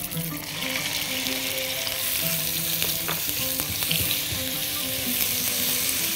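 Garlic and onion fry in oil with a steady, loud sizzle from start to finish, and a spoon stirring and clinking now and then.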